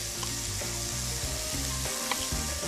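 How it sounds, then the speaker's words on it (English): Onions and sliced pepper frying in a pan, a steady close sizzle with crackling pops and the scrape of stirring, no voices over it. "And the onions go in first because you can never rush cooking an onion."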